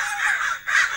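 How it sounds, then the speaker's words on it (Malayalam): Two loud, harsh crow caws, close and clear, are separated by a short pause, with no talking. "കാക്ക എന്ന് പറഞ്ഞ ഇഷ്ടം പോലെ ഇവിടെ കിടന്ന് കരയുക"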